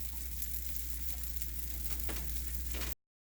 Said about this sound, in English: you're going to leave these fry for a few minutes